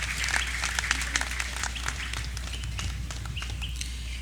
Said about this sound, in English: Another round of applause for Honorable the Dr.